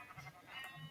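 Sheep bleating inside a video game sheep farm, a couple of short wavering bleats of moderate loudness filling the second, with no talk over them.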